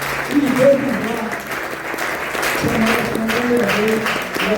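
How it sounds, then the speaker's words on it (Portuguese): A church congregation applauds steadily for several seconds, a dense wash of clapping with voices speaking and calling out beneath it. "Eu quero pedir uma salva de palmas ao Senhor por essa palavra, em nome de Jesus."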